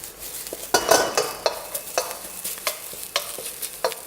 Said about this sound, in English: Can hear that sizzling away.